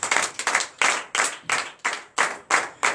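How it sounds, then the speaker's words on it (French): A church congregation claps in unison at a night deliverance and prophecy service, about nine strong, evenly spaced claps in a steady rhythm, loud and close, with no talking. "Donnez l'acclamation à notre Seigneur"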